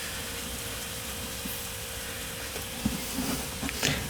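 Baking soda water fizzing and crackling on lead battery plates as it cleans them, a steady close hiss with scattered small pops and sizzles, no talking.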